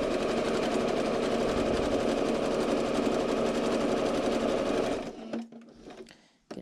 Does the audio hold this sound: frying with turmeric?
no